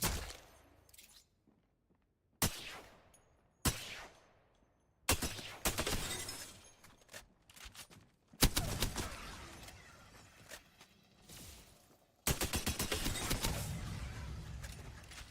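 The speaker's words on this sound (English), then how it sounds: "because it shoots 2 bullets at the same time." Gunfire from a double-barrel-style weapon that shoots two bullets at once in the video game Apex Legends: several sharp, loud bursts with crackling tails, separated by near-silent gaps, then denser rattling shots.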